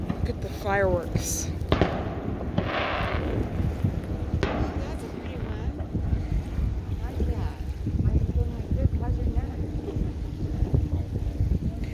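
Fourth of July fireworks pop and crackle in the distance amid heavy wind buffeting and boat noise, with people talking throughout.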